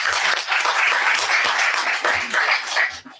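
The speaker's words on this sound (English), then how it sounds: "can we please give group 2 a last round of applause," A youth dialogue audience gives a group a short, lively round of applause, close and brisk with many hands clapping at once, fading out after about three seconds.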